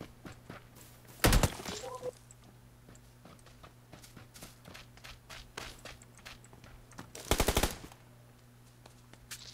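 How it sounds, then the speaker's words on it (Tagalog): Gunshots in a video game ring out from behind, two loud bursts of rapid fire standing out against a quieter bed of scattered clicks and steps. "May bumaril sa likod."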